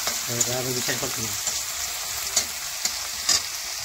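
Cumin seeds frying in oil for cooking greens, a bright steady sizzle with spoon stirring and a few sharp clicks, and a voice briefly audible near the start.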